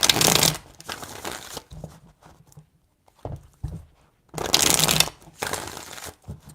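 Tarot cards are shuffled in several quick, rustling bursts separated by short pauses, close up and fairly loud, with no speech.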